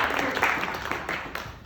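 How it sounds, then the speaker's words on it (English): A brief burst of audience clapping for a guest invited on stage at a site visit event, scattered hands forming a short, fairly close round of applause. "Let's clap for her."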